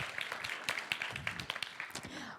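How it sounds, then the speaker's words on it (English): An audience at a WordPress meetup talk claps for the meetup organizers, a scattered round of applause with distinct individual claps that tapers off, while a voice carries on beneath it. "Let's applaud them, please."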